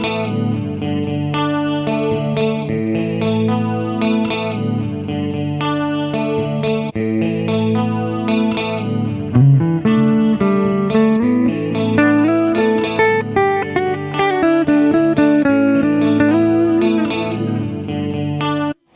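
A looping electric guitar passage through an FM3 effects processor, drenched in chorus and distortion, steady and loud with layered melodic lines, no voices.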